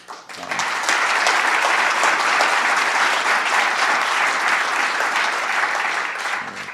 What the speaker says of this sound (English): Count on the legislator to applaud legislation.